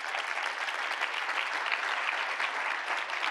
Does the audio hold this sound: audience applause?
yes